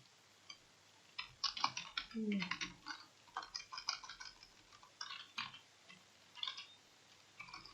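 Code being typed on a computer keyboard: bursts of quick, close key clicks and taps in uneven clusters with short pauses between, fairly soft.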